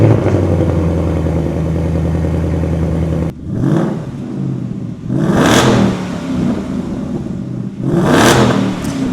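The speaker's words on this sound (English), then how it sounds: "So the Mach 1 sounds insane, as you guys heard. That was in race mode as well" Ford Mustang Mach 1 automatic in race mode, a steady idle giving way to three sharp throttle blips that rise and fall, loud and close, with no talk.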